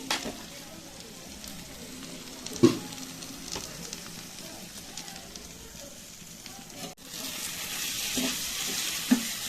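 Raw green tomato charchari stirred in a pan, a soft, low sizzle with a couple of sharp spoon taps against the metal, ending in a brighter hiss.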